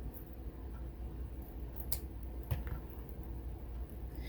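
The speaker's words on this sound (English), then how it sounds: "I just need to cut it down just a tiny little bit." Scissors cutting adhesive material down to length while crafting a Canvas Diva on a charger plate with crushed glass: a few faint, quiet snips and clicks over a low background hum, with no talking.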